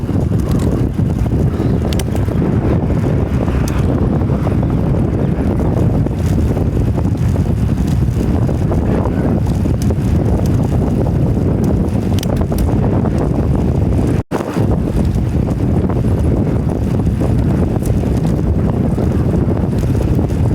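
Wind buffets a microphone outdoors on a warm morning commute, a loud, constant low roar lasting throughout with a brief dropout near the end and no speech.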